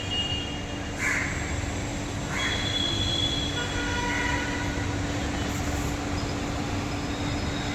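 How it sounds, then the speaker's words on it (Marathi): A train runs along the tracks near Mahalakshmi railway station in Mumbai after rain, giving a steady close rumble of wheels and carriages with brief squeals, heard alone without talk. "इकडे हे महालक्ष्मी रेल्वे स्टेशनकडनं येणाऱ्या जे काय गाड्या आहेत त्या संपूर्ण रेल्वे इथून या पटरीतून जात असतात।"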